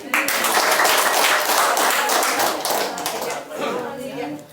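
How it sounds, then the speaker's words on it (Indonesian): A crowd claps and applauds in a village gathering, a dense steady patter of many hands filling the space, with voices talking underneath. "Tepuk tangan dong."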